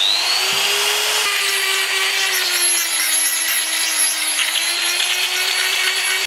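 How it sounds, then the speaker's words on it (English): Makita GD0600 die grinder with a carbide burr grinding a sledgehammer, a loud, continuous high whine with a harsh cutting hiss that stays close and steady throughout. "you can use a burr, a carbide burr on a die grinder. This is a little Makita die grinder, GD0600"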